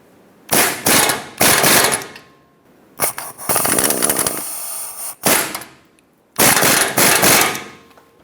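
A ratchet tightening tie rod bolts on a Ford E-350 gives four loud, close bursts of rapid clicking, each a second or two long and separated by short pauses.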